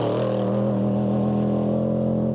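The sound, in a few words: off-road pro race truck engine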